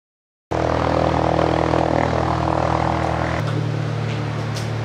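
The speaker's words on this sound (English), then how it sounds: "So this right here is his plane. My Cessna 150. We're about to go up flying" A Cessna 150 light airplane's propeller engine starts and runs close and loud as a steady droning hum, its pitch dropping slightly partway through.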